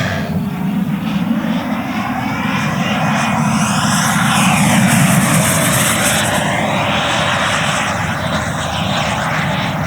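A JETFAN-110 Black Horse Viper RC jet with a 3 kW ducted-fan motor on an 8s Li-Ion pack flies on a cold day, its loud whine sweeping through steady Doppler passes overhead.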